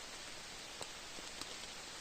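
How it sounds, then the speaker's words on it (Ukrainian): Rain falling in a Carpathian forest, a soft, steady hiss of drops on leaves and ground with a few slightly louder individual taps, faint and even throughout. "Так дощик посилюється."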